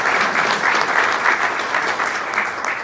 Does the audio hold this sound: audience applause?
yes